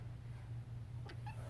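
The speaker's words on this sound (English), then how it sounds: "There's a cat" A cat in a room gives one short faint meow near the end, against a quiet background with a low steady hum.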